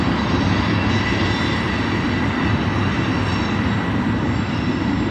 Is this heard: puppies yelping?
no